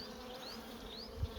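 Small cluster of honeybees buzzing around a beehive with two supers, a continuous close drone with a few rising whines from individual bees passing near.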